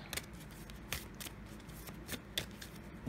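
Oracle cards being shuffled and drawn for a Halloween card reading, giving close, papery riffling and soft slaps, with several sharp card snaps spaced through steady handling noise and no talk.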